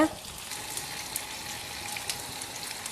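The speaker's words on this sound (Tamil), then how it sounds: "இப்போ எண்ணெய் சூடாயிருச்சு, அதில் நம்ம கொஞ்சம் கடுகு போட்டுக்கலாம் தாளிக்கிறதுக்கு" Steady crackling sizzle of mustard seeds frying in hot oil for tempering, with scattered sharp pops over a continuous hiss, close by.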